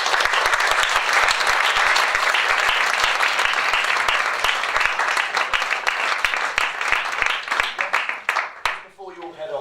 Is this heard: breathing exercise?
no